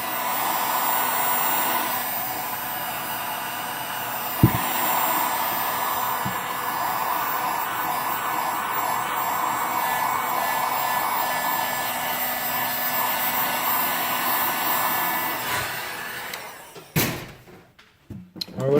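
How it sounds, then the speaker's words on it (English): A handheld heat gun blows hot air in a steady, loud broadband roar for most of the stretch, used while retrofitting LED lights on a Suzuki GS500F motorcycle, with a brief clunk midway and the roar cutting off near the end. "so you grab your trusty heat gun again"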